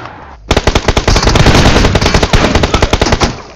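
Rapid automatic gunfire in the mobile shooter BGMI: after a brief lull, a loud, close burst of evenly spaced shots rattles on for about three seconds with no speech.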